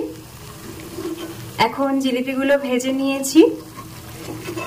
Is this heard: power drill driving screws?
no